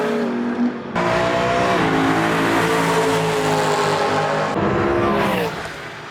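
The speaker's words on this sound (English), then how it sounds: "including a couple of E92 M3s with their amazing wailing V8s" Several BMW E92 M3s with wailing V8 engines lap a race track at Donington Park, loud and continuous with rising and falling harmonic engine tones as the cars pass and change gear.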